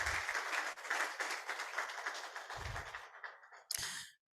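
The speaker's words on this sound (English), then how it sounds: "we want to give you a round of applause" Audience applause at a health leadership event in Nigeria, a dense wash of many hands clapping that fills most of the clip, then fades out near the end with a brief burst of sound.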